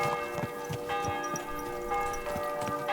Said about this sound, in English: Why the hell that bell rings loud?